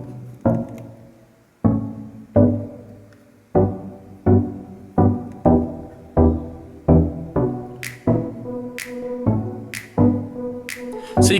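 Synth plucks from the intro of a dance-pop song, a syncopated run of short tonal hits with quick decays, joined near the end by brighter high-pitched accents, all instrumental with no voices.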